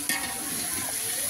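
Tomato and onion sizzle in a hot tempering (phodni) in a home kitchen, a steady soft frying hiss with a brief stir or clink near the start.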